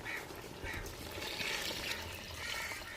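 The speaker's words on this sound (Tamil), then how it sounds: "இப்போ நம்ம அளவு தண்ணி சேர்த்துக்குருவோங்க" Water pours into a pot of crab and squid biryani with rice, a steady close splashing and gurgling that runs the full length without pause.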